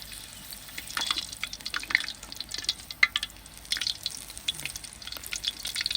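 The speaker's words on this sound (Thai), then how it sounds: "จะทอดหมูเป็นรอบสองนะคะ" Crispy pork pieces deep-frying in hot oil for a second round, a steady crackle with sharp pops and bubbling sizzles, close and fairly loud throughout.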